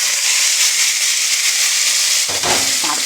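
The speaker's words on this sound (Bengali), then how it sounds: "তারপরে যখন কারি পাতাটা ফোড়ন হয়ে যাবে তারপরে সাবুটাকে ছেড়ে দিচ্ছি" Sago dropped into hot oil already tempered with cumin and curry leaves, a loud, close, steady sizzle and hiss that briefly flares and crackles near the end.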